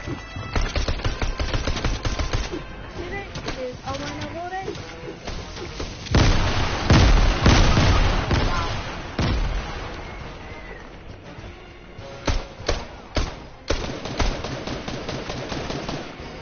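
Video game gunfire rattles loudly in rapid automatic bursts, with heavier booms in the middle and sharp scattered single shots toward the end.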